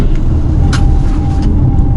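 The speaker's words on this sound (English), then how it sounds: "See, you can hear the car wanting to push outwards, right? Relying on its tires." A 2019 Audi A5 Sportback takes a corner, its steady engine and road rumble joined by a faint, sustained tyre hum as the car pushes outward on its tyres.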